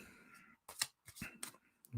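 Tarot cards shuffled in quick bursts, crisp riffling swishes and snaps coming in short clusters separated by brief pauses, close and fairly quiet.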